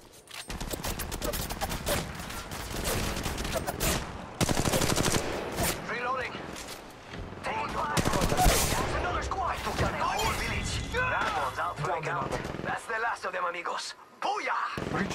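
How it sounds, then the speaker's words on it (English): Rapid bursts of automatic gunfire and single shots in Apex Legends, loud and close, with game voice lines and players talking over the shooting throughout. "They're shooting at me!"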